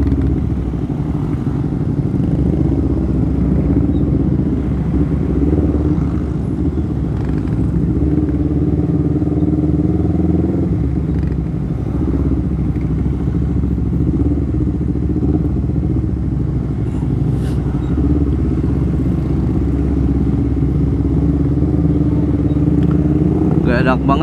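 A Honda CBR250RR motorcycle being ridden on a road, its engine a steady loud droning hum with rising and falling revs and wind buffeting, heard up close throughout the ride.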